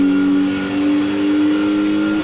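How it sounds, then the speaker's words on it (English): A 1976 Volkswagen Golf GTI with an upgraded exhaust tune in Need for Speed Heat idles steadily and loudly, a constant droning engine note with a slight waver and no speech. "And the exhaust sound if you want this particular exhaust tune"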